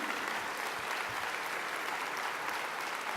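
An audience at an Alzheimer's ethics and society award ceremony claps in a continuous, uniform burst, a dense patter of many hands held at a steady level with no talk over it.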